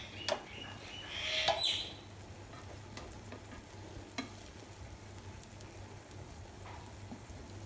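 A Spanish omelette sizzles softly in a pan over a low flame, a steady quiet frying hiss with a few brief clinks near the start.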